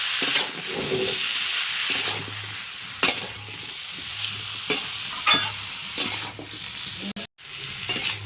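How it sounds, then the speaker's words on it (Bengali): Bottle gourd pieces stirred through spice paste as they fry in a pan, a steady close sizzle broken by sharp scraping clatters of the spatula at irregular intervals, with no voices. "এবার আমি এই লাউগুলো ছেড়ে দেবো এর সঙ্গে লাউগুলো দিয়ে একটু ভালো করে নাড়িয়ে দিতে হবে"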